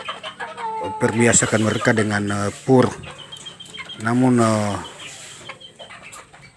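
Three-month-old free-range village chickens cluck and squawk nearby in short bursts in the afternoon while a person talks over them.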